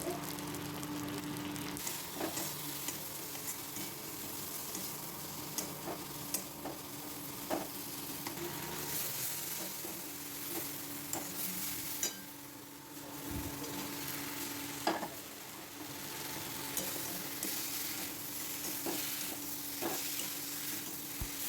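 Turmeric, chili, coriander and cumin masala frying steadily in a pan, a continuous close sizzle with occasional stirring clinks and scrapes, no talking.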